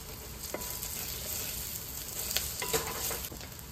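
Ginger garlic paste sizzles steadily in hot oil inside an Instant Pot, a continuous close frying hiss with a few brief stirring clicks and scrapes, no voices.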